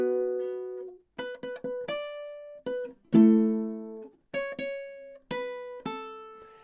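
Ukulele plucking a riff at bars 15 and 16: clear single notes and short bursts of notes in a halting riff rhythm, moderately loud and close, with brief gaps between phrases and no voice.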